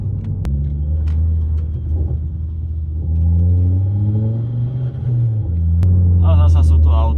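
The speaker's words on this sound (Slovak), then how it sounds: "Tieto strely z výfuku, toto je proste balzám na dušu." A Ford Focus ST with a 300-horsepower engine revs and rumbles steadily from inside the car, rising and falling, with a couple of sharp exhaust pops cutting through.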